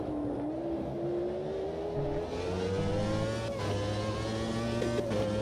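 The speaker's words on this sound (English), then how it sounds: "the wonderful sound of old school F1 engines" Vintage Formula 1 racing cars in the Automobilista 2 sim race, engines droning steadily at high revs with rising pitch, continuous and loud throughout with no talk.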